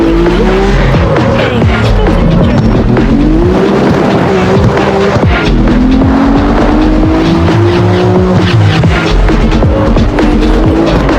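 A car drifts in the CarX Street mobile racing game, its engine roaring loud and steady as the tires squeal and skid through long slides, with no talk.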